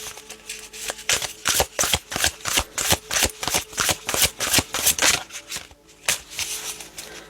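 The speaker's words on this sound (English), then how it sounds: "I'm waiting for Spirit to flip these 3 cards out" Tarot cards shuffled by hand in a steady run of about fifteen crisp riffling bursts, close and fairly loud, with a brief pause near the end before the shuffling resumes; no talking.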